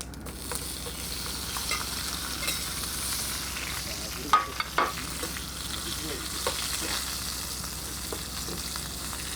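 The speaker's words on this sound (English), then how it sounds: "Let them fry for a bit, and then you tip in your prawns" Prawns and curry leaves fry in a hot pan with a steady, close sizzle, broken by a couple of sharp clatters from the pan partway through.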